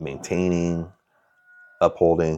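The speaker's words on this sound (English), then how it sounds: "I don't know if you can hear that rooster out there" A rooster crows loudly outdoors, its call briefly overlapping with a person speaking nearby.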